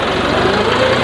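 A new tractor's engine runs steadily at idle close by, a loud, constant rumbling drone with a fine, even vibration and no break in the sound.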